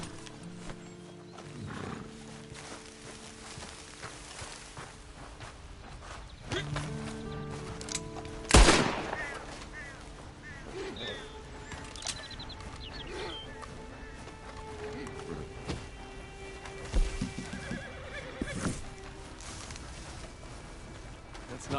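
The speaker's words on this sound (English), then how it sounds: "Then you better get on this horse." Horse hooves clop and a horse snorts and whinnies in Red Dead Redemption 2, with a loud burst partway through, mixed under spoken dialogue and ambient game sound.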